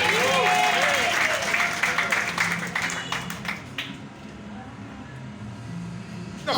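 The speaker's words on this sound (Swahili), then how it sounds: "Tapia Yesu makofi" A church congregation claps and cheers for Jesus during a Swahili service. The loud, dense applause mixes with voices and gradually thins out after a few seconds.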